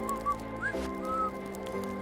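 Person whistling in the woods to imitate a Sasquatch call, a few short rising and falling whistled notes, moderately loud over quiet outdoor background.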